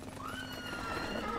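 A horse in the video game Die Gilde 3 gives a short, rising whinny, fairly faint against a dense background of game ambience, with faint hoof clatter.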